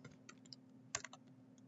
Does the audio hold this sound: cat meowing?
no